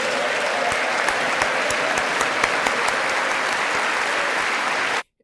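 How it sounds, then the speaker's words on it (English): A large audience in the US Congress chamber applauds after King Charles' address, a dense, steady wash of many hands with a few sharper claps standing out, ending abruptly. "Oh, it's just people clapping."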